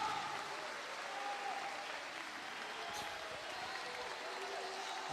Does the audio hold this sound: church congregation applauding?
yes